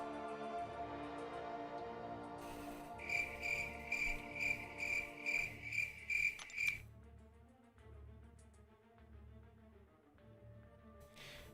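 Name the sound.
crickets chirping sound effect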